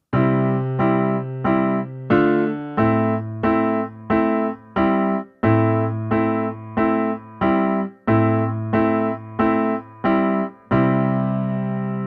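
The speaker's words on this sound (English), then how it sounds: "if I don't use my sustain pedal, it sounds like this" Piano chords struck without sustain pedal one after another in a steady rhythm, each cut short with brief gaps between them, giving a choppy, detached sound.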